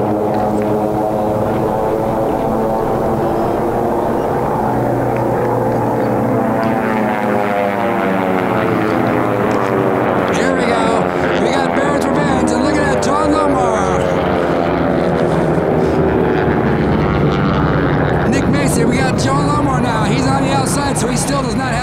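AT-6 propeller airplanes racing at the 2019 Gold air race, a loud continuous droning roar whose pitch rises and falls as the planes pass, with an announcer talking over it throughout.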